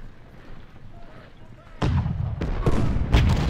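Booming cannon fire from a battle in the game Ultimate General: Civil War, several heavy blasts in quick succession over a low background murmur.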